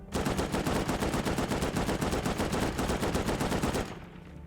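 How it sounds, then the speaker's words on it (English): Loud, rapid automatic gunfire from the Rust video game, fired as one unbroken burst of fast, even shots for about four seconds before it cuts off abruptly. "They're shooting something."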